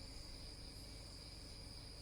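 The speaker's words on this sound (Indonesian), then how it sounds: "di malam hari ini saya akan ditemani dengan jangkrik ketika menyampaikan renungan ini" Crickets chirp at night at an outdoor post in Kemiri, a steady high-pitched trill that fills the scene continuously without pause.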